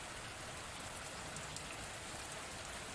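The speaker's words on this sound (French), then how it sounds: "Alors écoute la pluie." Steady, dense rain falling on a surface, a constant even hiss with fine patter and no other sounds, moderately quiet throughout.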